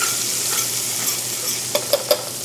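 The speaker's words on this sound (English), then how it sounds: "And we'll stir it around with the sofrito." Browned chicken and chorizo being stirred with sofrito in a paella pan, giving a steady sizzle with soft scraping and a few sharp utensil taps near the end, close and alone.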